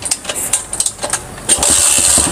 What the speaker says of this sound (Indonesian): Karena ini mesinnya 200 cc ya, mesinnya 200 cc, 5 percepatan.